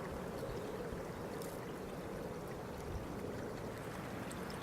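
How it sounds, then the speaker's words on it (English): Seasonal runoff water flows down a rut in a four-wheeler trail, a steady, continuous trickling rush that holds an even level throughout with no voices. "it's still flowing right now. It's coming right down that rut there in four-wheeler trail."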